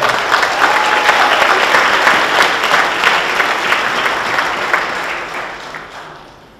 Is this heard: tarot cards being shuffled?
no